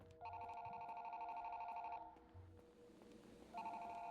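A telephone rings in the Five Nights at Freddy's horror game, a steady electronic warble for about two seconds, then a pause with a low thump, then the ring starts again at the end.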